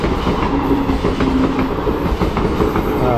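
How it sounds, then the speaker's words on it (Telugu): A local train rumbles past close by, a loud continuous roar of wheels with rhythmic clicking on the rails throughout, and no voices. "లోకల్ ట్రైన్ వెళ్ళిపోయింది."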